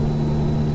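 A Peterbilt 389 truck engine idles in Euro Truck Simulator 2, a steady low drone with a constant hum running unbroken throughout, fairly loud and alone with no voices.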